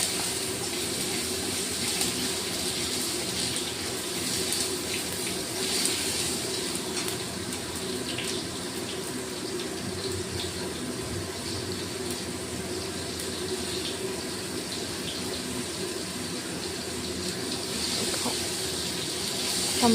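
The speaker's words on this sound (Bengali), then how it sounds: "টমেটোটাকে ভালো করে ভেজে নিতে হবে" Chopped tomatoes fry in a pan with a constant, even sizzling hiss that holds steady for the full twenty seconds, fairly close, with no talking over it.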